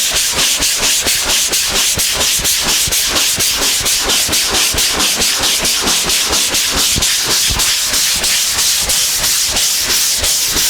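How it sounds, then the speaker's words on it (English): A cheese grater block sands a round body panel in fast, rhythmic back-and-forth strokes, a loud close hissing scrape repeating evenly throughout. "There's our cheese grater block."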